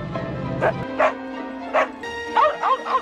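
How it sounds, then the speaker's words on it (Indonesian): Several cartoon Dalmatians and other town dogs across London yip and bark in short bursts, some near and some more distant, calling back and forth over a soft musical backdrop. "Kota London kini dipenuhi dengan suara gonggongan anjing."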